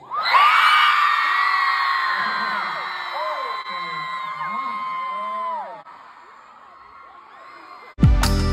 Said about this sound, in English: I want to hear your scream.